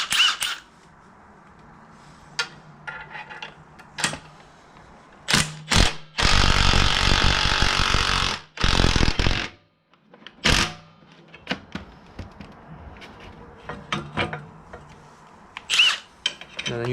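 A Lexus IS300 rear knuckle bushing is pressed out with a bushing presser kit and socket, giving sharp metallic clicks and ratcheting bursts plus a long, loud grinding stretch, with quiet pauses between.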